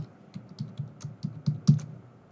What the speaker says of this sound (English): here I'm putting a password for this person